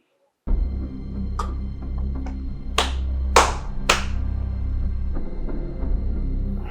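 Several sharp slaps to the cheek crack out irregularly in a drama scene, a few close together, over a steady low hum.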